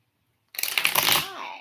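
Tarot cards being shuffled up close, a sudden dense burst of riffling that starts after a moment of silence and continues with fluttering texture before tapering off.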